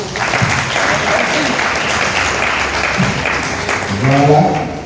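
A church congregation claps and cheers in a steady, dense burst of applause at a Catholic charismatic renewal gathering, with voices calling out and a few louder shouts near the end.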